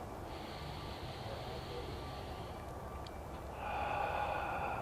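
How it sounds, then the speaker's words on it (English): Slow, deep breaths during a relaxing evening qigong routine: a long, soft inhale followed by a stronger, airy exhale, close and breathy, with no talking. "Long, slow, deep breaths."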